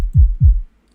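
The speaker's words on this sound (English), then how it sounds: "I'm using a dubstep kick, which sounds like this." Two deep dubstep kick drum hits from a sample in FL Studio, each a punchy low thump with a short boomy decay, played alone in quick succession before silence.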